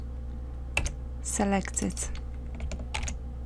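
A computer keyboard is typed on while writing Excel VBA code: a few quick, quiet key clicks in small bursts under a person talking.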